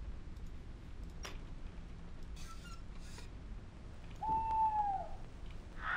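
An owl hoots from a bird LP record played inside the Escape Simulator video game's library room, one clear tonal call rising out of quiet room tone, with a few soft clicks and faint tones before it.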